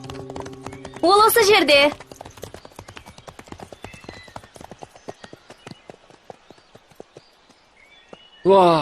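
Horses' hooves clip-clopping in a steady walking rhythm at Rose Valley, close and crisp, with short bursts of speech at the start and end.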